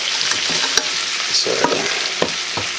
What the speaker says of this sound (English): And we'll cook the garlic for it to be flavorful and starting to brown.